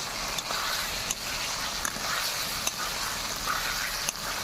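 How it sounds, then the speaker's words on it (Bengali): Potatoes and pointed gourd fry in a pan with a steady, dense sizzle, punctuated every second or so by a sharp scrape or tap as a spatula stirs them; no voices. "এরকম আলুটা দিয়ে দেব নাড়িয়ে নেব এরকম পটলটাও দিয়ে দেব আবার একটু নাড়িয়ে নেব"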